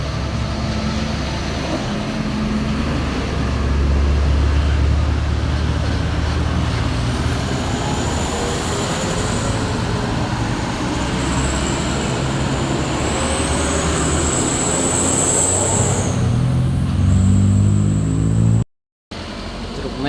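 Heavily loaded Fuso Hino truck crawling slowly uphill on a winding mountain road, a loud steady labouring engine drone with faint whine, close by, cutting out briefly near the end.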